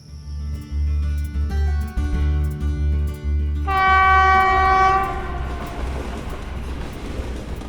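A train in a Bengali thriller audio story rumbles with heavy low clatter, then sounds a loud sustained horn that swells and slowly fades as the carriages keep rolling, with no voices.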